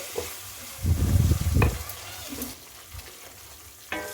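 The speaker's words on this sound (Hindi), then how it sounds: "इसे भी हम डाल करके साथ में इसे भून लेंगे।" Brief bursts of sizzling as ginger-garlic paste fries in a hot pan, a loud crackling surge midway then quieter spattering, with no talking.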